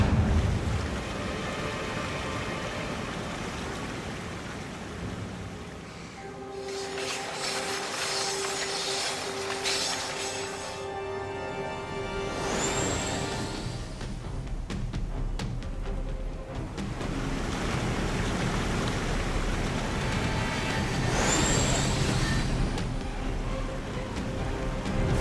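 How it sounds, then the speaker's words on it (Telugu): Cartoon magical waterfall rushing in a broad, steady wash of noise, with sparkling chime-like swells and a couple of rising whistles over continuous background music. "ఇది ఒక మ్యాజికల్ వాటర్ ఫాల్."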